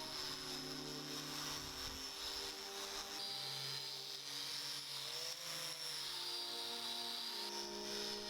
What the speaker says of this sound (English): A corded angle grinder with a cupped wire wheel.